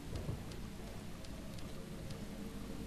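Steady rain falls in a foggy forest in Deadly Premonition, a constant soft hiss of drops with a low rumble beneath and a few faint ticks, no voices.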